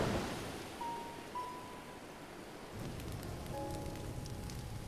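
Steady rain pours in Zelda: Breath of the Wild, a dense even hiss that thickens after a few seconds, with faint brief tones drifting over it and no voices.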